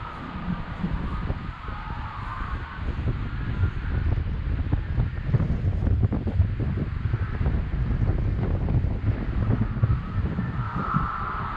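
Wind gusts across an open disc golf field near a practice basket, a steady broad rushing and microphone buffeting that runs the whole time with no talk.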